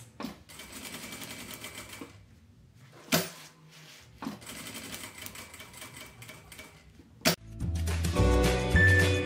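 A sewing machine stitches a quilted placemat in bursts of fast, close mechanical chatter, broken by short pauses and clunks, with no talking.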